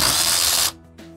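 A Gresco battery power tool running in reverse, a loud buzzing motor whir that cuts off abruptly, followed by a short faint mechanical click.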